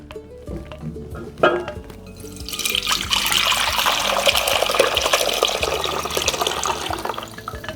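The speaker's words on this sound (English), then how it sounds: "we're gonna get the juice into the pot" Juice from a crock pot roast is poured into a pot, starting with a few knocks and clinks and then becoming a steady, loud, splashing stream that runs for several seconds.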